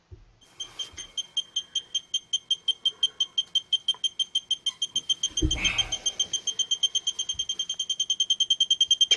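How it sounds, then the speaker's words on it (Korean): A handheld gas detector used for locating water pipe leaks against a floor beeps in a rapid, evenly spaced series of high electronic chirps that speed up and grow louder toward the end, with a brief rustle partway through. "가스 탐지기."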